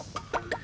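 A few short clucks from a chicken, brief separate calls spaced a fraction of a second apart, fairly close with no talking.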